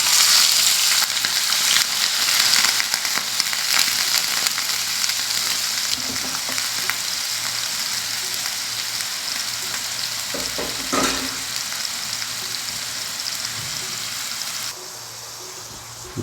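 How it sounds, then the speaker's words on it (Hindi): Chopped onion sizzles steadily in hot oil in a pan for Maggi noodles, a continuous close frying hiss with occasional stirring clatter, no talking. "इसमें प्याज फ्राई करनी है थोड़ी सी हल्की सी।"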